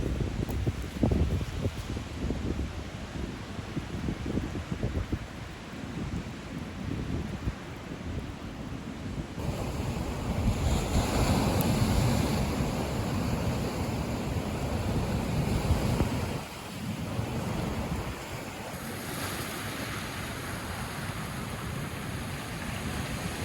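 Ocean surf rolls onto a remote, wild beach facing open sea, a continuous loud wash of breaking waves mixed with gusting wind buffeting the microphone, with swells surging and easing over the stretch and no voices.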